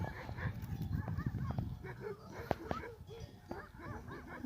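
Shepherd dogs snarl and bark in a fight at middle distance in the mountains, with people shouting over the commotion and sharp yelps breaking through.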